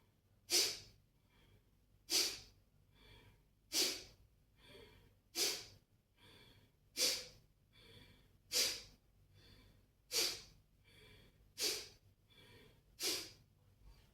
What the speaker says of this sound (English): You just relax your belly, keep your abdomen completely relaxed and just focus to pump your abdomen.